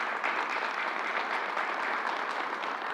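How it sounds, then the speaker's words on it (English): Guests at a Harlem event applaud in a steady round of clapping, a dense even patter heard from a moderate distance, continuing throughout without talk. "let's give them a round of applause, please"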